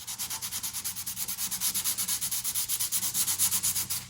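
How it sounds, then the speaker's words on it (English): Rapid back-and-forth strokes wet sanding car paint by hand with soapy water, a steady rhythmic rasping swish repeating about six times a second, close and fairly loud. "Properly wet sand, spray a little bit of soapy water, and then just get the sanding."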